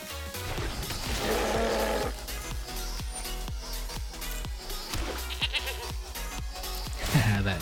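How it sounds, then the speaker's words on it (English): A comical goat bleat rings out in a video game, mixed over a busy, rhythmic music track with steady percussive hits, the bleating standing out mid-clip and again near the end. "That goat is hilarious."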